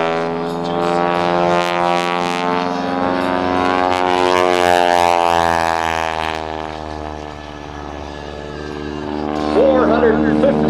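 A loud radial propeller engine of a Grumman Showcat aerobatic biplane roars steadily at an airshow, its pitch sliding and swelling as the aircraft maneuvers overhead, with a brief lull before surging again.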